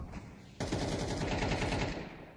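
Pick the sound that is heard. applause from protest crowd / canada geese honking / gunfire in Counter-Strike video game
gunfire in Counter-Strike video game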